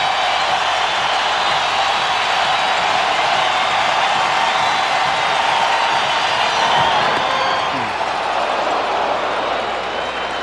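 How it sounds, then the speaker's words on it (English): A packed baseball stadium at a 1995 World Series game between the Braves and the Indians rises with a loud, sustained roar of cheering that stays high for the whole stretch, with no clear voice over the noise. "Crowd to its feet."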